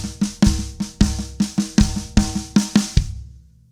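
A slow drum fill with accented notes, the kick drum landing together with the snare on the accents, in a steady run of about a dozen sharp hits that ends in a short decaying tail.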